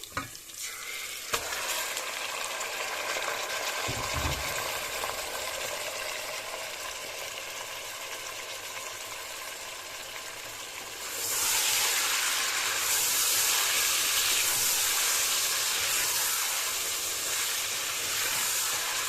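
Chicken for karahi sizzles and fries in a hot pan, a steady loud crackling hiss that swells even louder partway through, with a brief stir early on.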